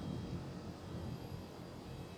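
A KLM Boeing 787 at Schiphol airport gives a steady, faint, distant engine rumble and broadband roar with no distinct events, heard from afar.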